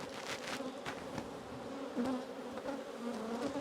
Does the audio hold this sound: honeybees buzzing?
yes